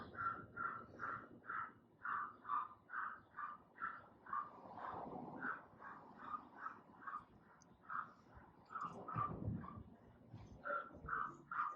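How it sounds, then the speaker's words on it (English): A dog outside barks steadily and repeatedly, a long run of evenly spaced barks heard at a distance through the walls, fairly faint, with no other voices. "Alright, the dog is still barking"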